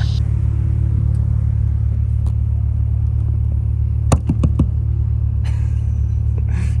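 A Polaris Pro R side-by-side UTV with a damaged CV axle, heard as a loud, constant low engine rumble throughout. A few brief knocks and clatters sound near the end.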